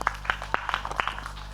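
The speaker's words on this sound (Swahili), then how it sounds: "Makofi kwa Shemasi." Audience at a primary school graduation ceremony in Muleba gives the deacon a short, scattered round of handclaps, a few distinct claps fading within a second or two.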